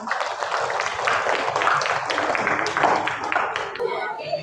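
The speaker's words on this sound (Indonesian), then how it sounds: "Tepuk tangan untuk kelompok Dian." Students in a vocational school accounting classroom clap for a group, a loud, fairly brief burst of many hands with a voice speaking through it.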